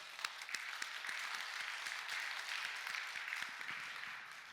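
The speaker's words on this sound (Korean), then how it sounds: "우리 하나님께 감사의 박수." A church congregation at a Wednesday service claps together in thanks to God, a steady wash of many hands that runs evenly for several seconds at a moderate distance.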